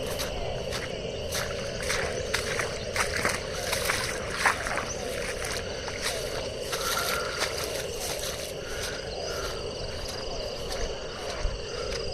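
Rainwater spills across farm fields beside an encroached storm canal, a steady, continuous rush of flowing water with a constant broad wash and faint sloshing, close and unbroken with no voices.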